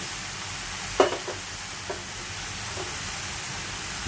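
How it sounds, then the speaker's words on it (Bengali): Vermicelli fries in a pan under a steady, bright sizzling hiss, while a few soft scraping stirs cut in briefly. The sound is close, with no talking. "একটু নাড়াচাড়া করে দিচ্ছি।"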